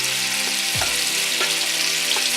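Marinated prawns fry in ghee with a steady, close sizzle and a dense crackling hiss, with faint stirring scrapes and no talking.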